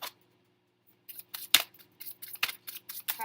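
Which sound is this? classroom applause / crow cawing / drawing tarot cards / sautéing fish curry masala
drawing tarot cards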